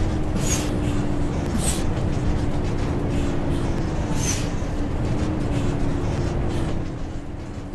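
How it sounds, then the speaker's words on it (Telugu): Bus braking in Bus Simulator Indonesia: a steady engine and road rumble runs throughout, with several short airy brake hisses bursting over it at irregular moments, and no talking. "బ్రేక్ సౌండ్లు"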